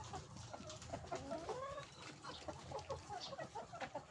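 Caged layer hens cluck and squawk in a steady overlapping chorus, close and fairly quiet, with a few louder calls rising above the chatter.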